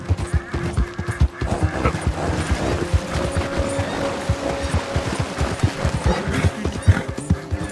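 Rapid, steady hoofbeats of a galloping horse in Red Dead Redemption 2 pound through a busy mix of game sounds, with a faint tonal hum running underneath.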